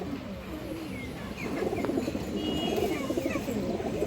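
Domestic pigeons coo softly and repeatedly at close range, with faint chirps and background rustle around them.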